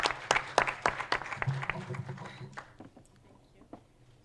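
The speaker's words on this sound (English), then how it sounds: "Give her a round of applause as she comes through." Applause at a corporate breakfast meeting: a brisk burst of audience clapping starts fairly loud and thins out over a few seconds, staying modest in volume with faint room murmur beneath.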